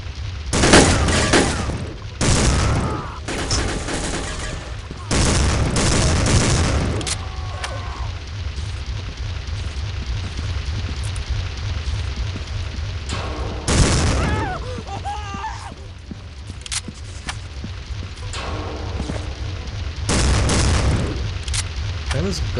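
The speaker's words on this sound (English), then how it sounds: "Why do I even have a grenade launcher out?" A grenade launcher fires in Soldier of Fortune II, with repeated heavy booming blasts in separate clusters followed by rumbling aftermath, and someone talks between the explosions.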